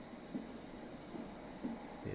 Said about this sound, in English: I'm just going to get this next train coming in, actually.